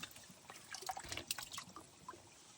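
Water running continuously from a spring source at Ain Sahban, a faint, steady trickle and splash with small bubbling droplets, heard alone.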